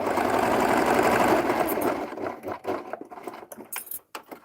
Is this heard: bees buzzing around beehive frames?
no